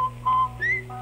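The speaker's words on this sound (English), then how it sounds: "Yes, you'll whistle while you wash," A person whistles a short, bright tune for a Rinso laundry soap radio advert, a few clear sustained notes with a rising slide, heard alone.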